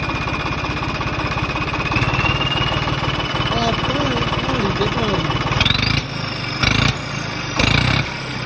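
Swaraj tractor with a turbo engine revving steadily and loud up close, a continuous mechanical drone with a rising whine, then cut by several short bursts of louder noise near the end.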